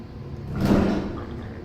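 The sliding door of an Otis hydraulic elevator at the US Bank Tower in Los Angeles moves with a single soft, swelling whoosh that rises and fades within about a second.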